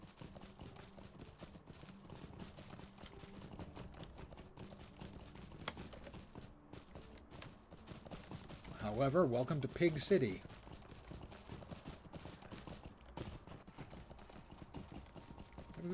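Horse hooves clip-clop steadily while riding through Lord of the Rings Online, with a brief louder burst midway; someone talks over the hoofbeats throughout.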